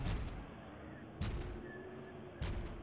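Three laser bolts fire in the VR shooter game Poly Runner VR, each a sharp blast about a second apart with a brief tail, loud and close over a steady background hum.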